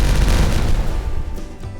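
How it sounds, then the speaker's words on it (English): Fireworks bursting in the colony-building video game Timberborn: a loud, dense run of crackling booms and pops that fades a little toward the end, with no talking. "it is time for some more fireworks"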